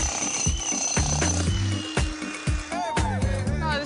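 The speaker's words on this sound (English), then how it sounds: "It's Elisa's turn to jackhammer the stairs" A jackhammer breaks up stairs during a home renovation, with repeated hard rattling bursts in a choppy rhythm, loud and close, mixed with other clattering and occasional tonal sounds.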